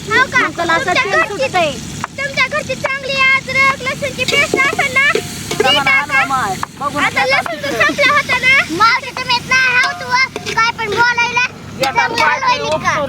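Onion and tomato fry in a pan for a fish biryani, sizzling steadily with occasional stirring scrapes beneath near-constant talking voices.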